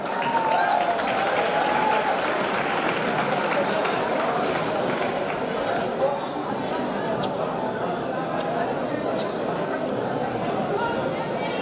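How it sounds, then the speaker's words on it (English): An audience at an Assyrian charity Christmas party applauds steadily and loudly throughout, a dense wash of clapping with some crowd chatter mixed in. "Please help me in welcoming and applauding Nobel Peace Prize nominee"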